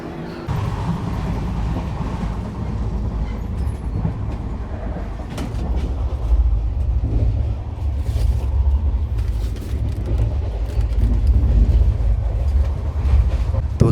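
A steady low rumble of the Rajdhani Express moving along the rails from inside a 3rd AC coach, building gradually louder with faint clatter over the heavy drone.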